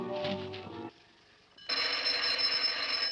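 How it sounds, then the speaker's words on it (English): Telephone or doorbell ringing in an old black-and-white horror movie, a tonal ring that pauses briefly and then returns as a louder, sustained bright ring. "Is he ringing the doorbell? Or is that the telephone?"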